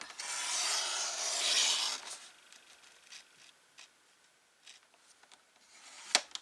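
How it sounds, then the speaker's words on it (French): A paper guillotine cutter slicing paper for a craft calendar gives a sustained hissing, scraping swish at first, then scattered light clicks and a sharp snap near the end, all fairly quiet and close. "Allez, j'y vais au massicot directement."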